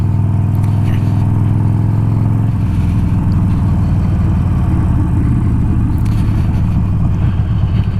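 A 2020 Harley-Davidson Iron 1200 motorcycle engine idles with a steady low throb, then its tone shifts into a rougher, busier rumble as it moves off, loud and close throughout.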